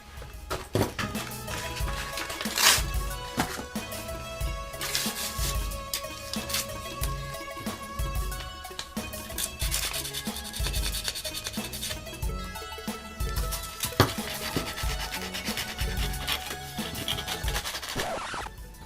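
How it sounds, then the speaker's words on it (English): Sandpaper rubs over the edges of a plastic pump grip for an Artifact Longshot blaster, a dense continuous scratching with occasional sharper scrapes and clicks, close and fairly quiet, with no voices. "I will take some sandpaper and go over the edges and smoothen them a little bit"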